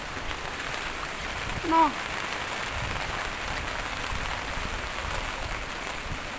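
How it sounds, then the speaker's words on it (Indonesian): Heavy storm rain pours down steadily as a broad, even hiss during a flood at a house under dark skies, with a brief voice sounding once near the start. "Ya Allah, hujan deras banget."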